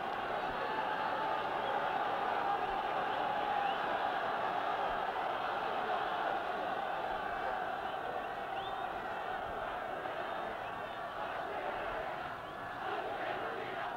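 A large rugby crowd in Argentina shouts and roars in a steady, dense wall of voices at a 1968 Test match, filling the whole stretch with no breaks.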